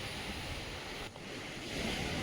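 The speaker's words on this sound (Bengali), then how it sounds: "এখন তো জল বেড়েছে আরও, আর ঢেউয়ের গতিও বেড়েছে" Sea waves rolling in at Bandstand on the Mumbai shoreline, with a high tide and fast-moving surf, make a steady, broad wash of surf noise with wind buffeting, continuous and fairly close with no voices.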